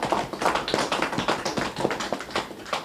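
An audience claps in applause at a special needs bus donation event, a dense, moderately near patter of many hands that continues steadily throughout.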